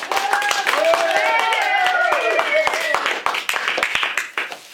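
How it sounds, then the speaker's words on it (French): A classroom audience claps in scattered, uneven bursts at a school storytelling performance, with excited children's voices and shouts mixed in throughout; the sound is close and loud and trails off toward the end. "Un tonnerre d'applaudissements pour le Petit Poucet et son père."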